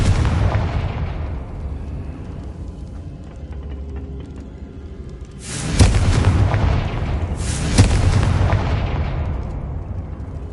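Confringo explosion spells cast in Hogwarts Legacy: a loud blast decaying at the start, then two sharp, booming explosions a couple of seconds apart, each with a rumbling tail.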